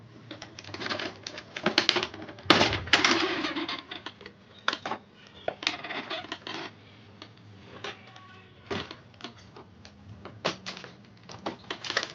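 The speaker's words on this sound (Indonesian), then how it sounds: "Kita buka cover depan, kemudian kita lepas scannernya." An Epson L3210 ink tank printer being taken apart, with the front cover opened and the scanner unit lifted off, giving a string of close plastic clicks, snaps and rattles at uneven intervals and no speech.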